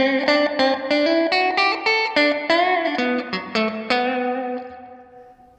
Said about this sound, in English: Now you can hear the reverb in there.